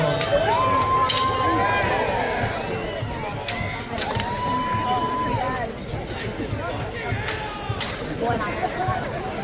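Crowd at a Renaissance festival cheering during a knights' fight, loud continuous hubbub with rising whoops and shouts, a voice talking over it.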